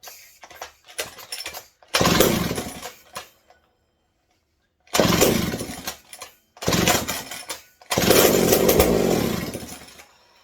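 A McCulloch 740 chainsaw running with no exhaust revs hard in several loud, raw bursts, roaring for a second or two each time with short idle gaps and near-silence between.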